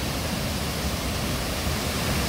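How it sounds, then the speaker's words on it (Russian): Steady, loud roar of a small waterfall in a national park on Kauai, heard up close from below, a dense continuous rush of falling water with no voices. "Еще один прикольный водопад на парке Кауяй."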